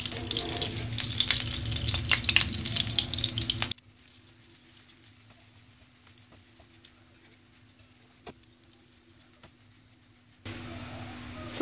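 Lachha paratha frying in ghee on a hot pan, a steady bright sizzle that drops to a faint crackle for several seconds, then surges back loud near the end; no talk.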